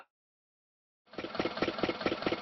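A tractor engine starts up after a second of silence and runs with a steady, rhythmic chugging throb, close and moderately loud, pulsing evenly to the end.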